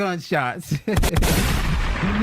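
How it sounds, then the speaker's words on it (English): After a short burst of speech, a gunshot sound effect cracks out loudly and is followed by a sustained burst of gunfire and noise that echoes away. "Gunshots."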